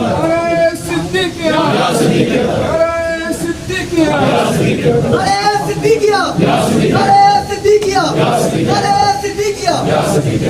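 A crowd at an urs for Baba Muhammad Shah Karoorvi chants the slogan Naara Siddiqiya in loud, rhythmic call-and-response bursts. The voices rise and fall repeatedly, close and energetic.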